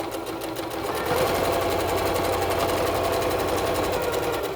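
A sewing machine runs a steady stitch through soft fabric for a child's fitted face mask, starting up after a brief pause and then humming evenly and closely without any talk.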